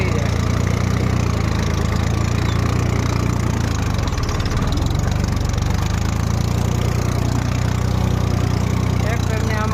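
A tractor engine runs steadily on a farm while it ploughs a field, a loud, constant mid-to-low rumble throughout with no breaks.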